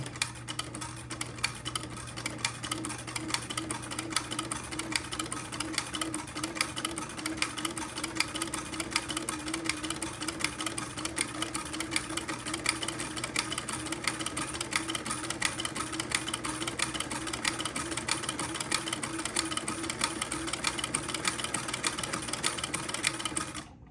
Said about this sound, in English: very carefully I will begin to sew a buttonhole